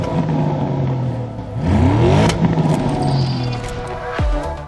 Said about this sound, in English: The Cayenne GTS comes with a specifically attuned sport exhaust system fitted as standard.